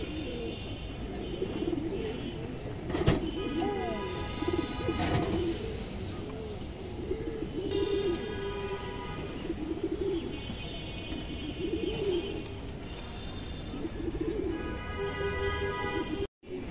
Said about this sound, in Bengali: দর্শক খুব সুন্দর কবুতর